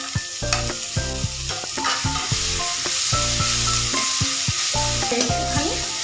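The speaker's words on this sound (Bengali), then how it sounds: "পেঁয়াজটা একটু লাল লাল করে ভেজে নিয়ে দিয়ে দেবো আদা রসুনের পেস্ট।" Chopped onion frying in a pan for a home lunch, browning steadily with a continuous close sizzle broken by repeated scraping and stirring strokes, no voices.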